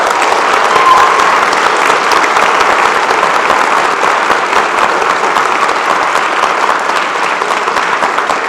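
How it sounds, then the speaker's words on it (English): Dense, steady applause from a large convocation crowd honoring family and friends of graduates, continuous and loud with no pauses. "Graduates, a round for applause for your support."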